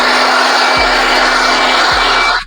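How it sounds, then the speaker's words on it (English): A handheld air blower used during BMW N45 oil filter housing work gives a loud, steady rushing hiss that cuts off abruptly near the end. "I'm gonna use my handy dandy blower"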